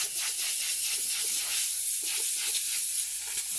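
A steady, loud hiss of compressed air blasting continuously, broadband and unbroken, with faint rustling underneath, as dust is blown off a 2014 Nissan Juke's AC condenser panel.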